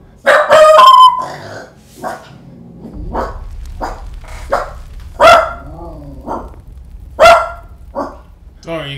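A pet puppy barks in a room in several sharp, separate yaps spread across the stretch, fairly close and loud, mixed with voices and other noises.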